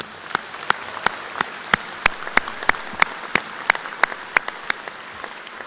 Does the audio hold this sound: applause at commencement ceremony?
yes